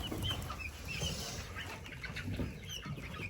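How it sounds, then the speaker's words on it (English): A rooster and chickens cluck at a moderate distance in a steady, busy outdoor mix, with scattered short calls and a faint rustle of movement. "Rooster making it sure everybody gets out."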